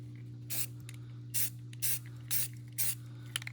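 A brown spray paint rattle can gives five short hissing bursts, each under a second, over a steady low hum while coating the barrel of an MK12 rifle.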